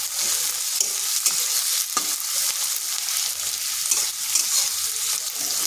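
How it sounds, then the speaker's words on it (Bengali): Thinly sliced onion frying in a pan of hot oil tempered with cumin and cardamom, a steady loud sizzle with occasional stirring scrapes throughout. "পেঁয়াজটাকে একটু ভালোভাবে ভেজে নেব যাতে নরম হয়ে যায়"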